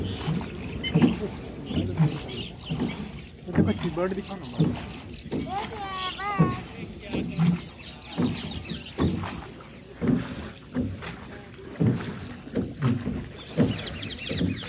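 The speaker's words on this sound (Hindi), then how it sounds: "उसके नज़दीक बोट जा रही है" A boat moves along a river near Mathura and Vrindavan, its low rumble and water sounds running beneath near, frequent talk from people aboard, with a brief bird-like call midway.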